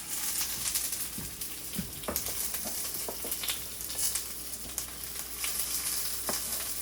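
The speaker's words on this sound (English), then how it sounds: "So now we'll put the onions in." Onions sizzle steadily in a hot pan alongside red peppers, a constant close frying hiss broken by light scraping and stirring knocks.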